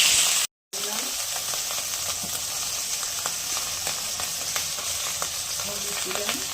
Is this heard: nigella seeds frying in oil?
yes